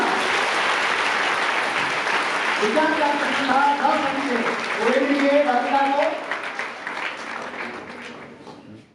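Applause at a girls' school quiz competition, steady clapping running under a speaking voice, then thinning and fading toward the end.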